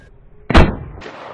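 A single loud gunshot at an outdoor shooting range, a sharp close blast with a brief decaying tail, set against quiet open-air background.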